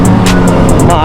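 Suzuki GSX-R1000 sport motorcycle with a 999cc liquid-cooled four-cylinder four-stroke engine pulling away, a loud close engine roar that rises in pitch as it accelerates, with brief sharp high bursts on top.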